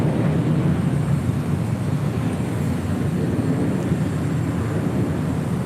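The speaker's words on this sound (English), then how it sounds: "Japan Airlines Flight 61 heading to Tokyo Narita on a 787-8 Dreamliner, heading up here for a north side departure" A Japan Airlines Boeing 787-8 Dreamliner departing LAX gives a steady, moderately distant jet engine rumble with no voices over it.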